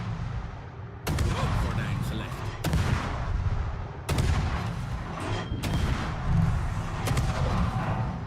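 Heavy naval guns boom in a World of Warships battle, several loud broadband salvos spaced a second or two apart over continuous low rumble, with someone talking between shots.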